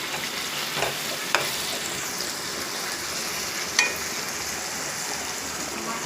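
Tomatoes stir and sizzle steadily in oil in a pan while cooking down, with a few sharp clinks of the spoon against the pan over the constant frying hiss.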